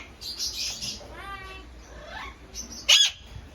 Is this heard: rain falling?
no